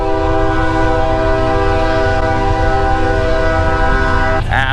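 A dump trailer's horn blares in one loud, continuous harmonic tone, steady throughout and cutting off at the end, with a low rumble underneath.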